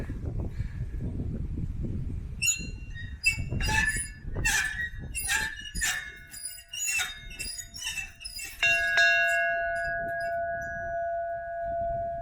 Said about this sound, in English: So here's the school bell, and I guess you just pull the chain on one side